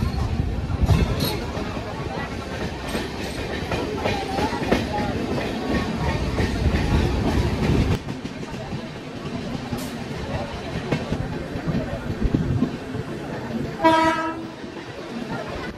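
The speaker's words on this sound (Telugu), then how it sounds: "ఇక్కడ ఒక ట్రైన్ అయితే ఉంది." A train at Bibinagar railway station rumbles and clatters steadily nearby with faint voices in the background. The sound drops partway through, and then a short horn blast sounds near the end.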